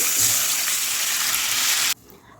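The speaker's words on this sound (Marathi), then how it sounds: "या वाटीनं मी दोन वाटी पाणी टाकून घेत आहे" Water pours steadily into a pan in a continuous rushing stream, then cuts off abruptly near the end, leaving quiet.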